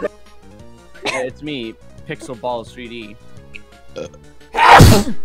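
A single loud, sharp sneeze bursts out near the end, following a man's fast, animated talking while gaming.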